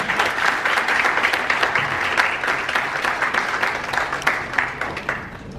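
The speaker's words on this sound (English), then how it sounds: "So ladies and gentlemen, please a big round of applause" A large audience at a university event marking the Commonwealth Games 2022 relay gives sustained, dense applause to welcome a speaker, a loud even roar of many hands that thins slightly toward the end.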